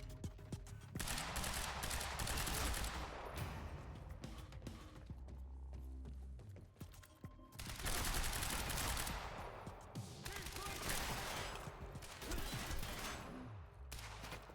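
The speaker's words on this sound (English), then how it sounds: "they're shooting through the wall" Sustained bursts of automatic gunfire in the video game Quantum Break, loud and dense, rattling in waves with brief lulls between volleys and no talk.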